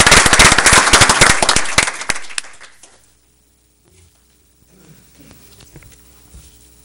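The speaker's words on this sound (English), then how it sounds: "right after we give him a round of applause" Audience at a school board meeting gives a teacher a round of applause, a loud burst of clapping that fades out after about two seconds, followed by quiet room sounds and faint movement.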